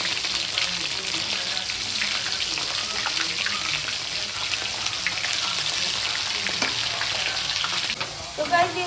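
Food sizzles steadily in hot oil in a pan, with a continuous bright frying hiss and occasional scraping stirs, close and loud with no talking.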